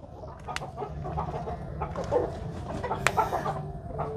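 Chickens of an unfamiliar breed, a pair that has just laid four eggs, cluck softly in a steady stream with a few sharper calls, close by and moderately loud, with no talk over them.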